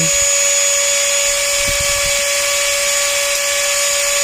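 A Ryobi or Dremel rotary tool spins steadily at high speed, around 30,000 RPM, giving a continuous high-pitched whine with a strong steady tone that runs unbroken from start to finish, close and loud.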